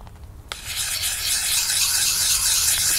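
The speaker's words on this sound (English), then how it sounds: "now let's smooth this blade up" A knife blade is rubbed across the oiled fine side of a Lansky Puck sharpener, a continuous close hissing rasp that starts abruptly and holds steady to the end.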